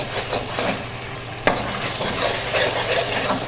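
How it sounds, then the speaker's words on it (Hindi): Tomatoes and masala are stir-fried for green chana (cholia) pulao, with a close, lively sizzle broken by a sharp utensil scrape or knock near the middle and no voices present. "मसाला डालते डालते हमारे जो टमाटर हैं वो भी अच्छे से भून गए"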